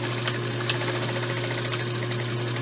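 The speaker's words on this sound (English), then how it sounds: "sew over it a couple times" A sewing machine stitches back and forth over overlapped elastic for a skirt waistband, a steady mechanical whir with a constant hum and rapid needle chatter running unbroken and close up, with no talking.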